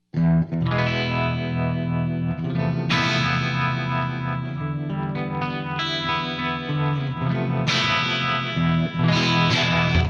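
An electric guitar plays chords and notes through a swirling, warbling modulation effect, with some distortion, loud and continuous.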